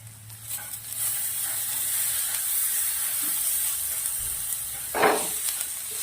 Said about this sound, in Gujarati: સરસ મિક્સ કરી દીધું ઠેચાને